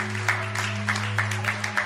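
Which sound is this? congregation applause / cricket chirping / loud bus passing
congregation applause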